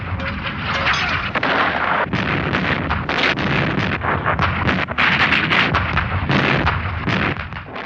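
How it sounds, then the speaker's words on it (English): Massed artillery barrage opening fire in April 1945, a dense, continuous roar of overlapping booms and blasts with repeated sharp bursts throughout, loud and sustained with no pauses. "the massed artillery opened fire"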